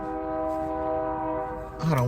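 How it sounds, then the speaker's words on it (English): A train horn sounds a long, steady chord, with a rumbling rail-transport background beneath it and a sharp horn note rising at the very end. "We got the Royal Train coming through."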